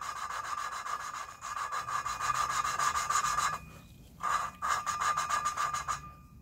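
Steady, rapid back-and-forth grinding as an engine valve is lapped against its seat, scratchy rasping strokes repeating close up, with a brief pause before the rubbing resumes.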